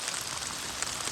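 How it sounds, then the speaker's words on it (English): Hard rain falls on a lake during a fishing outing, a constant, even hiss of drops hitting the water with no voices. "It's raining hard now."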